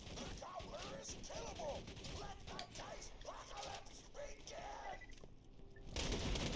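Explosions and gunfire in Borderlands 2 during a fight with ancient dragons, a busy string of bursts, cracks and mechanical clatter with repeated swelling blasts and game effects, followed by a loud surge near the end.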